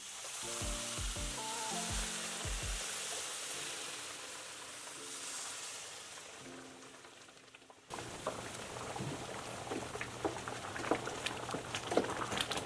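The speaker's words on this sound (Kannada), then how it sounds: "ನಿಧಾನಕ್ಕೆ ನೀರು ಹಾಕ್ಕೊಳ್ಳೋಣ" Rava frying in a pan sizzles as hot water is poured in slowly, first with low bubbling pops and then a sharp, louder hiss and crackle that persists steadily close by.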